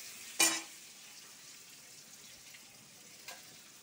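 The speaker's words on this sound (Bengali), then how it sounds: "সামান্য নুন দিয়ে আমি এবার ভেজে নেব পটলগুলি।" Pointed gourd (potol) with turmeric and salt frying in a pan gives a faint, steady sizzle, with one sharp clatter near the start and a softer knock later.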